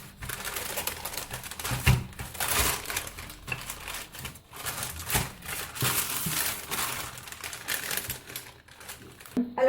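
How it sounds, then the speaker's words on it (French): Chocolate tart pastry rolled out between sheets of paper with a rolling pin, giving loud, close crinkling and rustling of paper in uneven surges and pauses, with soft thumps and no talking. "j'utilise des papiers. Je prends un rouleau et je vais bien l'étaler."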